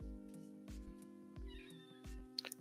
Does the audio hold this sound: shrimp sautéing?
no